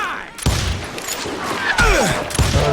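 Gunfire in the Western shooter game Call of Juarez Gunslinger, several loud sharp revolver shots with ringing tails spread across a few seconds, close and dominant with no talk over them.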